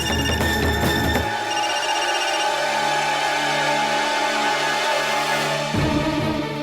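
A telephone rings loudly in a Gujarati TV drama scene, a steady electronic ring with a brief louder burst at the start and end, heard alone without talk.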